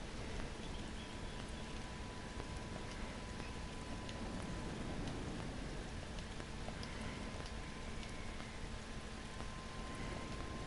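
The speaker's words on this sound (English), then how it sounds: "Wow, rain on Ryza." Steady rain falls on the planet Ryza in the video game Star Trek Online, a faint, even, continuous patter of drops with a few sharper ticks, no voices, holding unchanged throughout.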